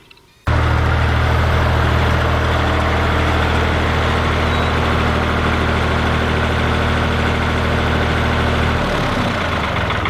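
A tractor engine on a homestead starts abruptly and settles into a loud, steady, close idle with a deep rumbling drone that shifts slightly near the end, with no speech.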